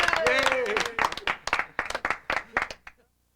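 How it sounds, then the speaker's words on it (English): A burst of audience applause, dense clapping that thins into scattered claps before stopping, with voices and cheering mixed in at the start. "Give her a round of applause for helping."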